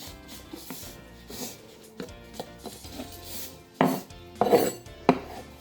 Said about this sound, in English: And we're going to chop it.